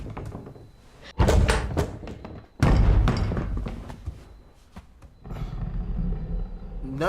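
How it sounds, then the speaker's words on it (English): Loud, sharp bangs against a wall inside a house, two heavy thuds with clattering knocks between them, close and echoing, with faint voices underneath. "Why are you banging on the wall?"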